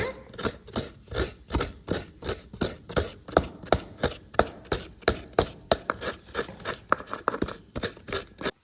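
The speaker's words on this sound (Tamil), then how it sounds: "தேங்காய் துருவிக்கோங்க" Fresh coconut is grated by hand in a home kitchen for a quick sweet snack. Close, rhythmic scraping strokes repeat steadily, about three per second, with no talking.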